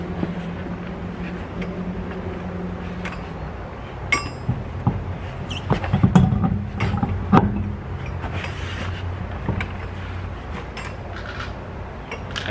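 Rear wheel going back onto a 2011-2013 Buick Regal during a brake pad job, with scattered metallic clinks and clatters of lug nuts and tools, a few sharper knocks in the middle, close and fairly quiet.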